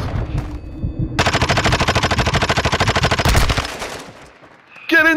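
Sustained automatic gunfire from Call of Duty: Modern Warfare II, loud and close, a rapid unbroken burst of shots lasting a few seconds before tapering off, with a brief sharp effect at the end.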